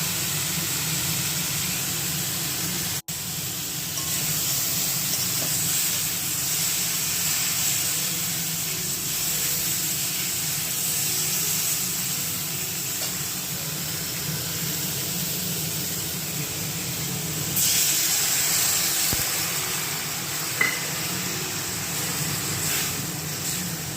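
Eggplant frying in white oil makes a steady, close hiss and sizzle that carries on unbroken for a long stretch. A few faint clicks sound over it, and nobody talks.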